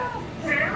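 Several people in an audience imitate cat meows together, a short, loose cluster of voiced mews rising near the end, mixed with general crowd murmur in a convention hall.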